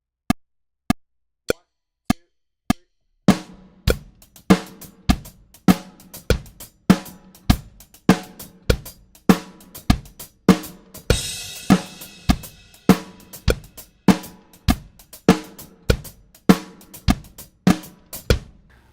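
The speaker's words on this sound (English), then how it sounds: "we're going to play kick drum on 1 and 3, snare on 2 and 4, just to give it a groove" A drum kit plays a steady groove, first with a hi-hat phrase alone in even ticks, then joined by kick on beats 1 and 3 and snare on 2 and 4. The hits are sharp, close and regularly spaced, and a cymbal wash swells in the middle.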